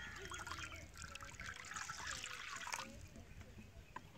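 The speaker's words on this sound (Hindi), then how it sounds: "सबसे पहले हम कढ़ाई में थोड़ा सा पानी डालेंगे।" Water is poured into a wok set on a lit stove, giving a steady liquid trickle and splash over about three seconds before it fades, with faint background noise.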